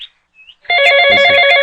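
A telephone rings during a call, a brief chirp followed by a loud, steady electronic ringing tone with bright harmonics that carries on to the end.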